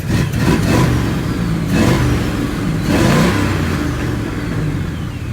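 Car engine revving in a shop, three loud surging rev cycles rising and falling close by, with a whirring, clattery mechanical undertone and no talk.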